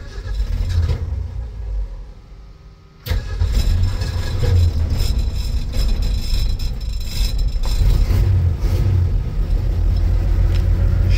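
A 1966 Ford Bronco running on e-fuel cranks briefly, falters into quiet, then catches and settles into a steady, loud, rumbling idle close by with no one speaking.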